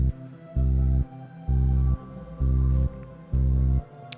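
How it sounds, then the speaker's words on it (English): A soft flute or ocarina patch in a game-style FL Studio beat, playing four evenly spaced sustained notes of about half a second each, separated by short gaps. The tone is mellow and distant, with no voices. "We get into the flute slash ocarina, this part right here."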